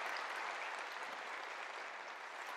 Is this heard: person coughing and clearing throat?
no